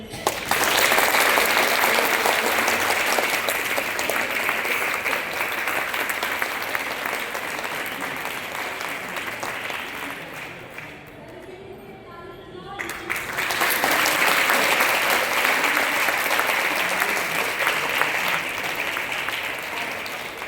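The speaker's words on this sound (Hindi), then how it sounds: "तो उस ज्योतिबा फुले के लिए ताली बजाइए" An audience at a college gathering applauds Jyotiba Phule with loud, sustained clapping that dips briefly in the middle before swelling again, with some crowd voices mixed in.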